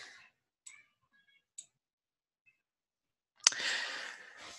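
A mouse click ticks once on a captcha checkbox, preceded by a few light, sparse clicks, then followed by a louder burst of broadband noise.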